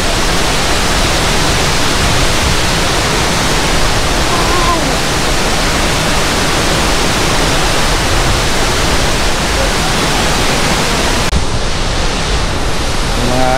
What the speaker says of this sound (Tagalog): Hulugan Falls